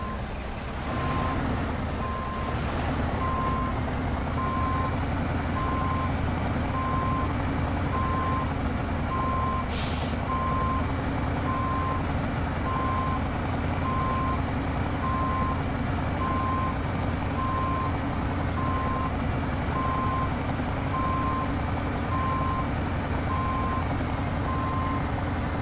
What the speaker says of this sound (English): That's an awful lot of truck and trailer to back up.